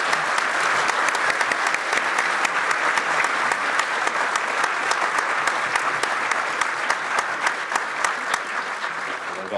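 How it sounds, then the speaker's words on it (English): Sustained, even applause from an audience for a panel at a Snowflake Bentley 150th birthday celebration. It runs strong and uninterrupted from start to finish with no voices on top. "please give a great round of applause for our panel"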